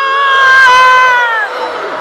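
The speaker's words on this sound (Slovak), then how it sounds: "vy poviete o prezývku, to znamená Moon, to zakričíte všetci, skúsime si to?" Concert audience at the Moon & Klarisa Show in Banská Bystrica yelling the nickname Moon together, a loud sustained crowd shout with strong harmonic voices rising and fading over two seconds.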